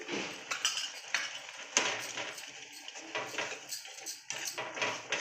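A spoon stirring and clinking in a pan as chili powder and salt are mixed into tomato egg curry, repeated scraping taps in an irregular rhythm, close and fairly quiet.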